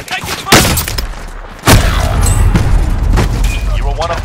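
Gunfire and heavy booms from the combat video game Shield And Blade, two sharp loud blasts followed by sustained dense firing, with voice chatter layered in the background.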